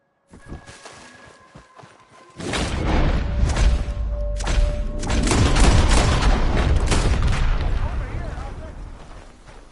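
Gunfire and explosions in a Red Dead Redemption 2 gunfight, with a quieter stretch and then a loud dense burst of shots and booms running continuously, mixed with game sounds and people talking over the action.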